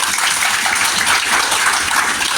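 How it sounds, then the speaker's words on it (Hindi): Loud, dense applause from an audience at a CRI programme for teachers of people with disabilities, a steady wash of many hands clapping together with no pauses. "मैडम के लिए एक जोरदार ताली बजाइए"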